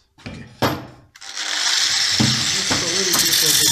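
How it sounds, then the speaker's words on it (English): A sander works a round wood plank made for wax sculpture models. After a couple of short clunks, a steady, grinding whir starts and holds close and loud for the rest of the stretch. "right now I will be sanding the wood plank I made."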